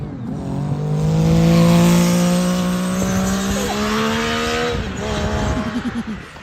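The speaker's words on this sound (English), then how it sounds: "they sent us some clips of the car testing. Now listen to this engine." A high-pitched Formula Student race car engine screams at full revs during testing, its whine rising and falling as it accelerates and shifts, loud and close with no talking.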